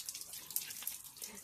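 Soapy water is poured out in a brief, close, gentle splashing trickle lasting about a second and a half.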